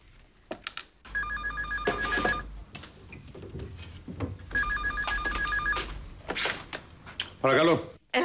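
A telephone rings with two long electronic bursts of the ringing tone, close and fairly loud, separated by a pause, with people talking around it and a voice answering near the end.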